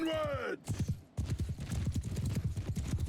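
Cavalry horses' hooves clip-clop in a rapid, steady gallop during a battle in the video game Mount & Blade II: Bannerlord, following a brief voice at the start.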